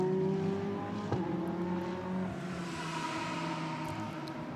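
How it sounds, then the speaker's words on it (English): GT race cars, including a Lamborghini Huracan and a Ferrari 488, roar around the Barcelona circuit during Blancpain GT Sports Club qualifying, engines droning loudly and steadily with a sharp shift blip early on, no talk. "Detavernier in the Lamborghini Huracan"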